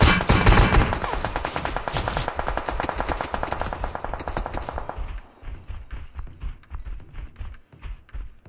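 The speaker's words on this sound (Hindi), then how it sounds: "मशीन गन से बचने का कोई तरीका नहीं वैसे।" Sustained machine gun fire in the PUBG Mobile video game, a loud rapid burst of shots that gives way to sparser, fainter repeated bursts of distant gunfire.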